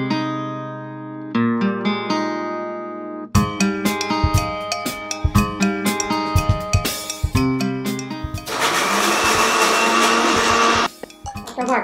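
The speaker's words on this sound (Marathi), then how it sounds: "यानंतर आता दोन्ही डाळींचं मिक्सरमध्ये वाटून घ्यायचं।" A kitchen mixer grinder grinding two kinds of dal for dal masala paratha, heard as a loud, steady whirring roar near the end after a stretch of background music, then cutting off.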